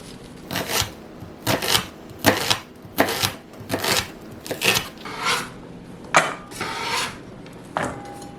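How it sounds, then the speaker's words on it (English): A knife rough-chops a sweet yellow onion on a board, producing about a dozen sharp, close chopping knocks in a loose, irregular rhythm with brief pauses between strokes. "that onion is just going to get a simple rough chop"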